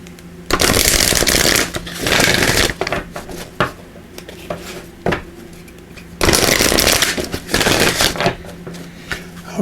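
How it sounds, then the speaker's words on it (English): Numerology guidance cards being shuffled in loud, riffling bursts that come in several separate rounds, with short quieter gaps of soft card handling between them. "we will pull a card here from the numerology guidance cards"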